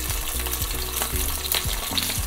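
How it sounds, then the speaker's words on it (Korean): Frozen sorghum rice cakes (susu-bukkumi), thawed slightly and filled with red bean paste, fry in oil over low heat with a steady close sizzle and a few soft scraping and stirring knocks. "냉동된 수수부꾸미를 실온에 살짝 해동하고 기름을 붓고 약불에 구워줍니다"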